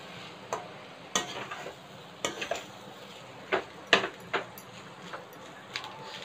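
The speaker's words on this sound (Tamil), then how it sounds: "தேவையான அளவு சாதம் நீங்கள் ஆட் பண்ணிக்கிட்டு இதை நல்லா மிக்ஸ் பண்ணிக்கோங்க" Egg rice with added cooked rice being stirred in a pan: a spoon scrapes and clinks against the metal in scattered, uneven strokes over a faint sizzle, close and fairly quiet, with no voices.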